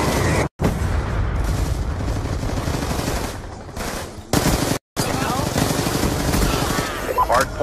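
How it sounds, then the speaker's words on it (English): Black Ops 2 multiplayer battle with a Hellstorm missile strike, dense rapid machine-gun bursts and booming impacts filling the mix, loud and nearly continuous with brief dropouts, and voices talking over the combat. "Friendly Hellstorm missile inbound."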